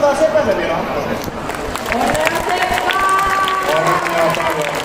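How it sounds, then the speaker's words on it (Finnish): Crowd applause and cheering for a child's eighth birthday, a broad steady wash of clapping sustained and fairly loud from start to finish, with faint voices mixed in. "Annetaan sepälle vielä aplodit."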